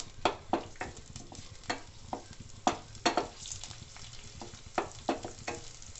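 Ginger, garlic and green chilli fry in hot oil for a Sindhi lotus stem and spinach dish, a low steady sizzle broken by repeated sharp scraping strokes of a spoon stirring the pan, close and fairly quiet.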